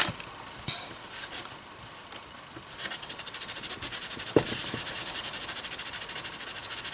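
Dry sanding of Fimo polymer clay with an Abranet mesh abrasive: soft, breathy rubbing strokes, sparse at first, then a steady run of quick back-and-forth scrapes that grow denser and louder, close up with no talk.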